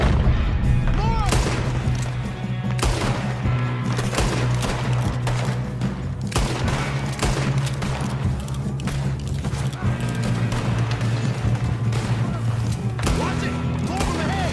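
Near-constant gunshots in Red Dead Redemption II, many loud rifle and pistol cracks in a dense firefight with a steady low rumble beneath and some voices.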